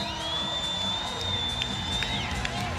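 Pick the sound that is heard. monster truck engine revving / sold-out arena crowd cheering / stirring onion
sold-out arena crowd cheering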